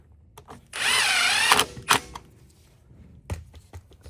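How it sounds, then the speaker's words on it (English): An impact driver runs a 5/16 bolt into steel threads on a Craftsman M110 engine: one loud, roughly one-second whirring, rattling burst, followed by a couple of sharp clicks and quiet handling noises. "Now the 5/16 on the outside, you're fine to use an impact."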